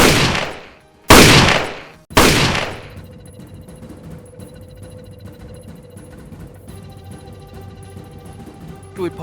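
Gunfire from a story sound effect of people shooting at strange creatures: three loud, close blasts about a second apart, each decaying, followed by a low rumbling ambience.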